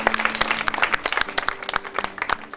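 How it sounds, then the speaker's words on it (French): Applause for young children at an orphanage event, a small group clapping unevenly with sharp, separate hand claps, close and lively for a couple of seconds. "on les applaudit"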